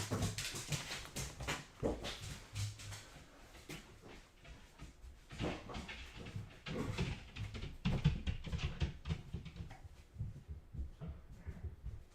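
A house dog whines and whimpers in short, uneven bursts across the whole stretch, fairly close by, with some shuffling and handling noise mixed in and no talking.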